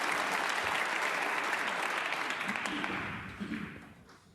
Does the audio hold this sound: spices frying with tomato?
no